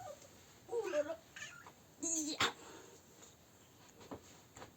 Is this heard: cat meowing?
yes